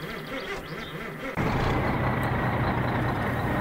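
Truck engine in the My Summer Car video game cranking over briefly, then catching and settling into a loud, steady, rumbling idle that continues without a break.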